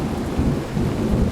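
Rain falling steadily on a night in New York City, with low rumbling thunder rolling beneath the constant hiss of the downpour.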